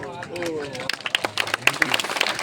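An audience at a youth job fair at a college in Barwani breaks into scattered clapping after a voice, the claps growing sharper and more irregular with chatter around them.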